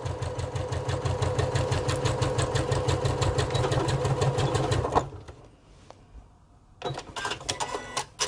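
A sewing machine stitching a shoulder pad for a crossbody bag strap runs in a fast, steady mechanical rhythm for about five seconds, stops, then a shorter burst of stitching resumes near the end.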